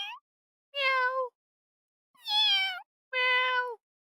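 Three clear cat meows from a cat character in the video game Variable Barricade, each about half a second long with a short pause between them, close and loud against silence.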